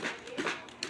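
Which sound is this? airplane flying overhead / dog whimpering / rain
dog whimpering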